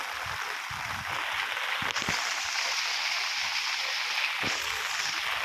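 Heavy monsoon rain in Lanja, in the Konkan, pours down as a steady, dense hiss that fills the whole stretch, with a few low thumps and knocks nearby.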